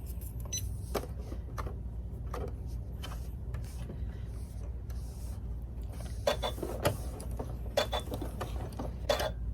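A sewing machine with a walking foot stitches binding through the many layers of a baby quilt, giving a quiet run of irregular mechanical ticks and clicks over a low steady hum, busier toward the end.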